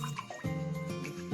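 Water pours into a bowl for sourdough bread dough, about 650 ml, a short liquid trickle with a gurgling, filling tone that shifts in pitch, faint and close.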